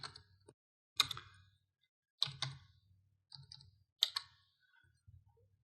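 A computer mouse gives about five isolated clicks, each sharp and close, spaced roughly a second apart in a quiet room.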